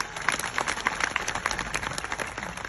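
Audience at a Gujarati community family gathering clapping together in a steady, dense patter of applause, sustained and moderately loud throughout.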